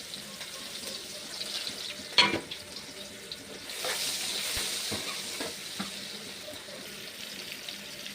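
Onions, green chillies and curry leaves fry in hot oil as the pieces are stirred for chicken curry, giving a soft continuous sizzle with a sharp clatter near the start and brief scraping bursts.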